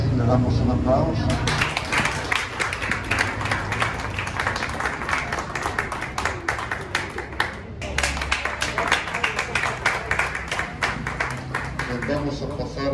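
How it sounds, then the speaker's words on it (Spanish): Guests applaud at a shop inauguration ceremony, brisk clapping from a small crowd running on with a brief dip, while people talk over it. "Damos un aplauso."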